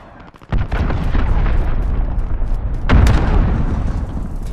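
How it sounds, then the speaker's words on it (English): Cruise missile strike explosions in Call of Duty: Modern Warfare: a heavy blast bursts in, then a second loud detonation follows about two seconds later, with continuous deep rumbling and debris roar between and after the impacts. "Enemy cruise missile incoming."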